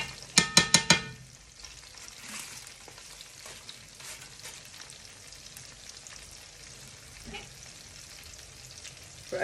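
Fried rice fries in a pan, an even close sizzle and crackle that follows a burst of sharp clanks at the start, with a few stirring scrapes along the way and no speech.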